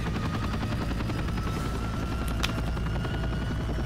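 Helicopter in the James Bond 007 Everything or Nothing video game, a constant loud rotor drone with rapid chopping pulses, unbroken throughout, with a brief sharp burst partway through.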